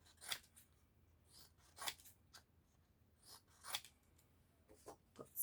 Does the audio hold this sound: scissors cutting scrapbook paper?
yes